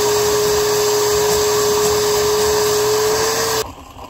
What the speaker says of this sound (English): I'm going to get the shop vac. We're going to vacuum it out best we can.